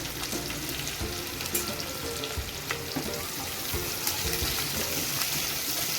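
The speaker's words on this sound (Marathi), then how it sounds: "आता कांदा सुद्धा घालायचा आपल्याला आणि चांगला तेलामध्ये परतून घ्यायचा आहे" Onion and garlic frying in oil for a kurdai vegetable dish make a loud, steady, close sizzle that runs throughout, broken by occasional stirring scrapes, with no talking.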